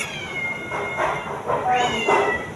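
A cat meows several times at close range, short rising cries repeated in a loose rhythm over a quiet indoor background.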